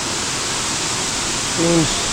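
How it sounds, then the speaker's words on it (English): A waterfall in Bali falling as a sheer wall of water gives a loud, unbroken roar from close by, with a brief voice-like tone near the end. "this waterfall is really just a sheer wall of water."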